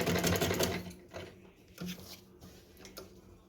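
A sewing machine runs close and loud at first while stitching a folded edge on a Laddu Gopal dress, then trails into quieter clicks and short mechanical bursts.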